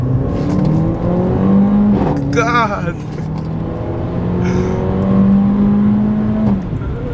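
A car pulls away hard, its engine note climbing in pitch through the revs, with a brief rattling burst partway through and people talking over it inside the cabin.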